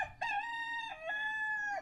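A rooster crows in one clear, drawn-out cock-a-doodle-doo, loud and close, standing alone without any other sounds.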